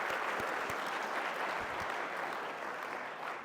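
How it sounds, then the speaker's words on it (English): Sustained round of applause from an audience at a talk, dense steady clapping that fades slightly toward the end. "if we are giving out a round of applause, how about a huge one for the person that made this happen, Mrs. Bernadas?"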